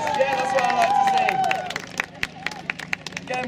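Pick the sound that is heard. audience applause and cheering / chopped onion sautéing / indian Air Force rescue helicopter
audience applause and cheering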